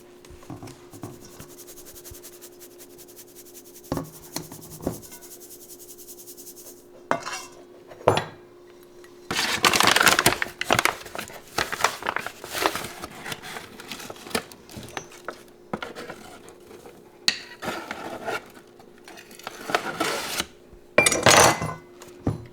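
Flour sifted together with baking powder and salt for a traditional tres leches cake, heard as scattered scraping, tapping and rattling of a metal sifter against a bowl, irregular bursts close up with quiet pauses between.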